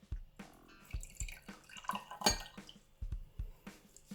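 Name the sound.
tap water poured into container with Orbeez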